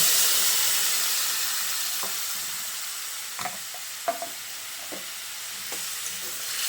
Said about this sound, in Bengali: এবার আমি ওই মিক্সিতে জল নিয়ে এর মধ্যে দিয়ে দিচ্ছি।